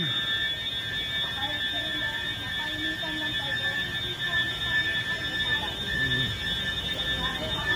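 A steady electronic alarm tone rings continuously at a constant level, with people talking and moving around underneath it throughout.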